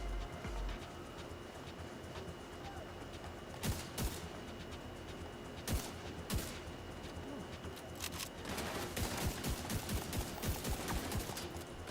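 Enemy Hyenas fire guns in The Division 2, with scattered shots early and then a dense, rapid burst of gunfire over continuous game ambience, some distant and some nearer.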